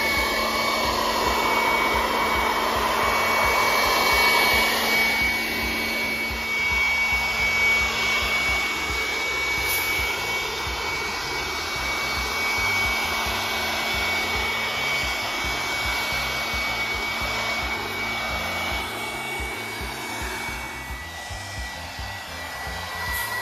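A threshing machine separating husk from grain runs loudly and continuously nearby, a dense rushing whir with a steady hum that eases slightly toward the end.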